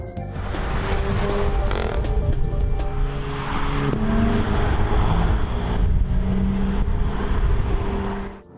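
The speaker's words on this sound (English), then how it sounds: "As you can probably hear from the distinctive flat six wail from over my shoulder, I've now jumped into the Boxster." A 2015 Porsche Boxster's flat-six engine wails steadily from close by. The sound is loud and continuous throughout, with layered engine harmonics that shift as it pulls.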